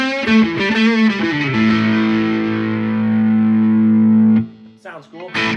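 A distorted electric guitar solo played through a Boss GT-1000 multi-effects unit: bent, wavering notes that settle into a long sustained tone, then cut off into a few short choppy notes.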